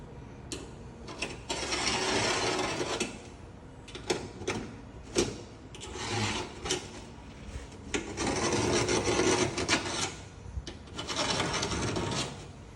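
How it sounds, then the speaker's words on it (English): A hand deburring tool scrapes sharp edges off an aluminium boat in repeated rasping strokes, each burst lasting a second or two with short pauses between, loud and close up. "use this little tool. It's called a deburrer. And this just takes all the sharp edges off around everywhere."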